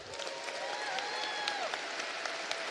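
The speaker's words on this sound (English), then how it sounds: "Can we all now give a huge round of applause for all the wonderful volunteers?" Audience applause for volunteers at a games closing ceremony, a steady wash of clapping heard at a distance and fairly faint, with a drawn-out tonal sweep running over it.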